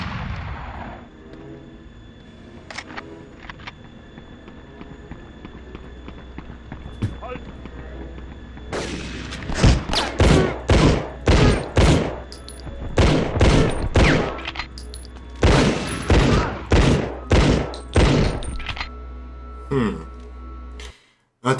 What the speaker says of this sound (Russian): Ой, стреляю.